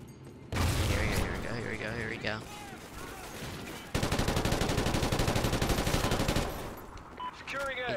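Rapid machine-gun bursts from Call of Duty Ghosts on Xbox One, loud and close, with a dense sustained stretch of automatic fire late on and a player talking in between.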